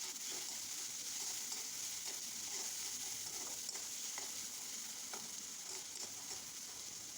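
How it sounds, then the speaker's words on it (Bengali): Onion and dried fish sizzle in hot oil as they are stirred, a dense, steady crackle with faint scraping strokes throughout, close and unbroken. "নেড়ে চেড়ে পেঁয়াজটাকে ভালো করে ভেজে নিব। এখন দিয়ে দিচ্ছি শুটকি।"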